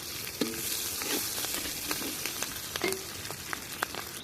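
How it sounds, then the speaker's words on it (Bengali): Garlic paste, ginger paste and green chillies fry in a pan, a soft steady sizzle broken by repeated scrapes and clinks as they are stirred. "ভালো করে নেড়ে চেড়ে ভেজে নিব আমি"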